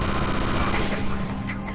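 Gunfire in the shooter game Chaser: a rapid burst of automatic weapon fire rattling continuously for under two seconds, loud and dense, with no break between shots.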